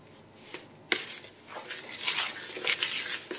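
Crumbled feta, chopped sun-dried tomatoes and chives are stirred into a muffin mix, making soft squishy scrapes and spoon taps against a bowl in an irregular, close, quiet rhythm.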